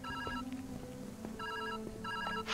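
A telephone rings in the video game Viewfinder, a quiet electronic bell repeating in short trilling bursts, three rings spread over a couple of seconds against a soft background.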